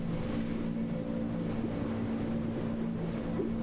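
A boat moving across water in the video game Before Your Eyes, a steady low engine-like drone with wind rushing over it, continuous and fairly close, no talking.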